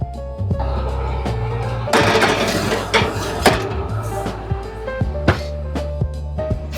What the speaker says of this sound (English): Just taking that out the oven,